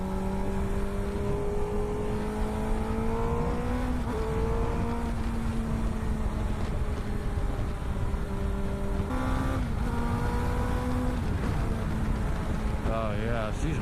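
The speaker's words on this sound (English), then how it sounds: "there's a lot of traffic." Road traffic around a rider on a motorcycle on wet roads, engine drone and passing vehicles forming a continuous rumble with shifting pitch, one engine revving up and down as it accelerates, no talk audible over the noise.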